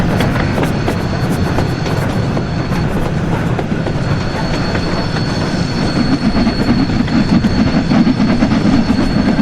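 A train in Train Sim World 3 rolls steadily, picking up speed, with loud continuous rumble, rhythmic wheel clatter and a faint high squeal over the whole stretch.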